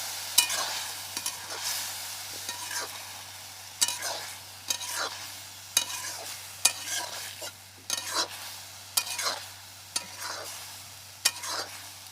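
A carrot and grated onion stir-fry is stirred in a frying pan for a Chinese-style carrot dish: steady, close sizzling broken by regular scraping strokes about every second, with no talking.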